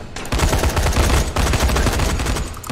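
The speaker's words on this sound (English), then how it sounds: "Well, guns are blazing." Rapid gunfire in the zombie video game Dying Light, a dense burst of loud repeated shots rolling almost continuously for a few seconds, close and harsh, with no voices over it.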